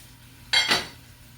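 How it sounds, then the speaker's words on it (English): Washed rice tipped into a cooking pot among coconut powder, seasoning and butter. A single short, bright rattling pour lasts under half a second against a quiet background, with no talking. "So right now I'm gonna put in the rice."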